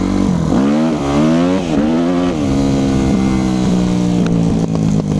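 A Yamaha YZF 250 motorcycle revs hard and accelerates, its engine pitch climbing and dropping through several loud throttle bursts close by, with no talking over it.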